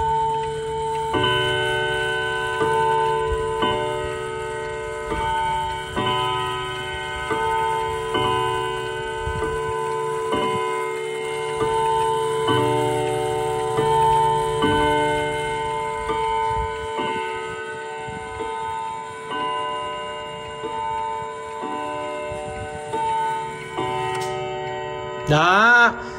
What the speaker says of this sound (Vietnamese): cái này cứ mỗi 30 phút điểm chuông một lần, với lại là giờ chẵn sẽ điểm chuông một lần